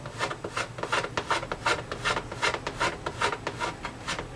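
Rhythmic rasping of a file on a guitar body, wearing down the finish around a chipped spot: steady back-and-forth strokes about twice a second, close and moderately loud, with no talking.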